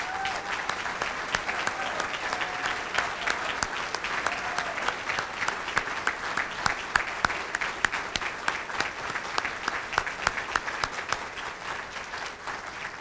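A crowd at a museum reopening gala applauds warmly, many hands clapping in a dense, continuous patter with crisp individual claps rising above the mass, sustained for several seconds in a reverberant room.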